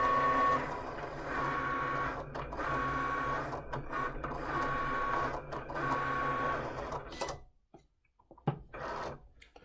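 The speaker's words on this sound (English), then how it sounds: "what the Cricut will do now, it's going to start cutting out the shape for us" A Cricut cutting machine cutting out a card shape whirs and buzzes in close, busy mechanical bursts with brief pauses as the carriage moves, then falls quiet near the end apart from a few clicks and taps.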